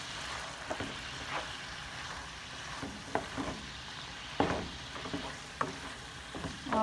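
Pancit noodles being stir-fried with oyster sauce in a pan: a steady soft sizzle with scattered scraping and clacking stirs from the utensil, close and without talk.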